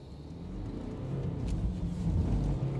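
A BMW 320 turning and spinning around in snow, its engine rumbling loud and close with rising revs across the whole stretch, no talk over it.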